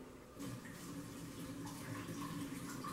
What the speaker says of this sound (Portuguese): Então eu vou colocar essa água quente